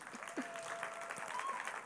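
A church congregation claps together, a dense steady patter of many hands filling the room for the whole moment.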